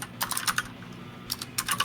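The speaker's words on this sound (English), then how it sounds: "you'll get me typing" Quick bursts of typing on a computer keyboard during a fighting-game tournament broadcast, several clusters of crisp close key clacks separated by short pauses, heard alone.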